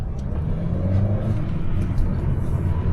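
Amazon delivery van driven fast on roads around Coalisland, Dungannon, Co. Tyrone, heard from inside the cab as a steady engine drone and road roar with no pauses.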